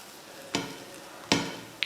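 Paneer paratha pressed flat on a hot pan gives two short bursts of sizzling, spaced apart, against a quiet background.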